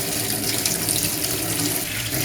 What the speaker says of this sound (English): Normally I wash the bottles back, but because I'm showing you, I'll have to wash this bottle again.